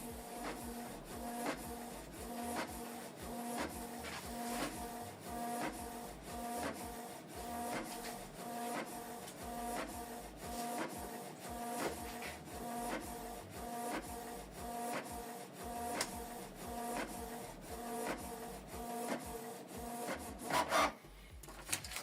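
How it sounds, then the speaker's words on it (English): A Canon Pixma TS3350 inkjet printer prints a page with steady mechanical whirring and rhythmic clicks of the print head sweeping back and forth, ending in a brief louder clunk. "select start printing to print the second page"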